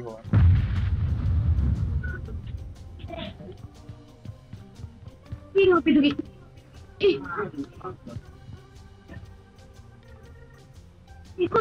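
Explosions in the video game PUBG Mobile, several sharp booms and bursts in game combat, with deep rumbling early on, while players talk over the action.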